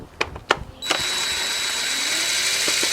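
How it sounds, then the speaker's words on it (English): A power driver loosens the Torx screws on a Jaguar XJ X351 air filter housing: a couple of sharp clicks, then a steady, close, high whirring spin that runs to the end. "you're going to be loosening a total of 7 Torx screws around the housing"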